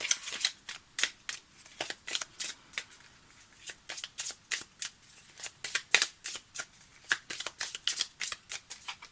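Cards shuffled for a reading, a close run of quick riffling bursts that repeat in rhythmic clusters over several seconds, with brief pauses between them.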